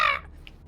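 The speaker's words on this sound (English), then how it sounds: "you hear like the sound of crows" A single harsh crow caw rings out briefly and close, followed by a faint higher chirp, then quiet background.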